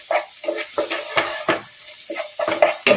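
Ginger and garlic are sautéed with spices in a pan, with short scraping stirs and clinks of a utensil against the pan over a faint steady sizzle, in a quick irregular rhythm.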